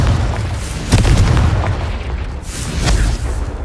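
Spell explosions from the Confringo spell in the Hogwarts Legacy video game: loud, boomy blasts with sharp bursts near one second and again near three seconds, over a continuous rumbling game soundscape.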